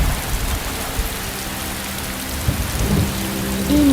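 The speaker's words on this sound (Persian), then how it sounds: "البته که بارون آتیشان رو خاموش میکنه" Heavy rain pours steadily with low rumbling thunder beneath it, loud and continuous, the rolling rumble swelling toward the end, with no voices.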